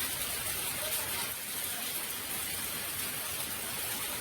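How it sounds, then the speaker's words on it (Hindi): Rain with hail falls over the rural Baroda area in a storm with strong wind, making a dense, steady hiss of pattering that holds unbroken throughout. "बड़ौदा ग्रामीण इलाकों में बारिश के साथ ओले गिरे।"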